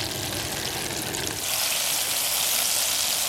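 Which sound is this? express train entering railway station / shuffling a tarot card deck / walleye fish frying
walleye fish frying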